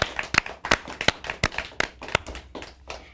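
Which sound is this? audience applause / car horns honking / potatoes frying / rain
audience applause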